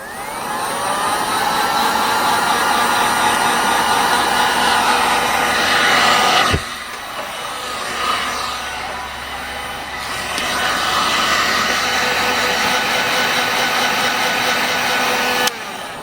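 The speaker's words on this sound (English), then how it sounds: "I'm going to take my heat gun and I'm going to quickly heat this." A heat gun is warming a wooden blank gift tag coated in texture paste. It blows with a steady, loud roaring whine, dips briefly with a click partway through, then surges back to full strength until another click near the end.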